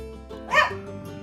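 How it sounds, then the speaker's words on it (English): A dog shut in a room lets out one short, close bark with a whimpering edge while trying to get out, over a steady low background hum. "That was my dog, Maverick."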